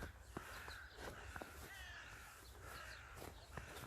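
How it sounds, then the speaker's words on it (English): Several crows caw near a river in snowy woods, sharp repeated calls spaced irregularly across a few seconds, fairly faint and distant over quiet outdoor ambience. "Here's the crows."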